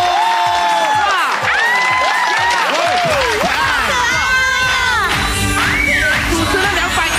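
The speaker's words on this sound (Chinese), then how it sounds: "掌声！" Studio audience on a television variety show bursts into loud cheering, whooping and shouting mixed with clapping, with high excited voices swooping up and down across the whole stretch.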